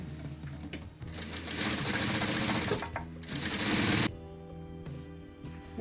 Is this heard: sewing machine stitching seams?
yes